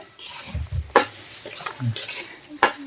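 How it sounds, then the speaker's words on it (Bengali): A utensil stirs fish head and cabbage curry in a pan, producing several scraping clatters and metallic clinks over a faint sizzle, close and irregular. "আমি একটু নেড়ে দেবো।"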